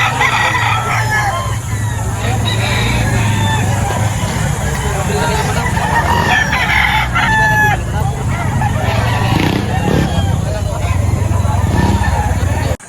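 Roosters crow repeatedly over a steady din of crowd chatter and background noise at a busy chicken market in Batangas, several calls rising and falling.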